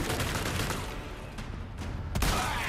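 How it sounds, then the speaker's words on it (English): Submachine gun fire in Resident Evil 4 Remake, a rapid continuous burst of shots at moderate level with a sharper crack near the end, no talk. "I got a lot of submachine gun."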